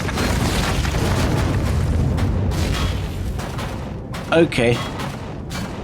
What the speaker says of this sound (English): Red lights and explosion.